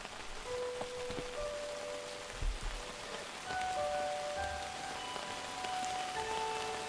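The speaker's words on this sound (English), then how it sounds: "Looks like rain." Steady rain falls in the video game Outbound, a soft, even hiss that runs the whole time with a few faint tonal chimes, and no one talks.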